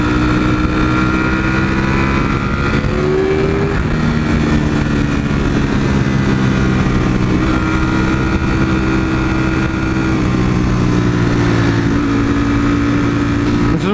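A Ducati V4 motorcycle ridden through hot city traffic, its engine loud and close with a steady rumbling drone, shifting pitch as the rider eases off and rolls on, no talking over it.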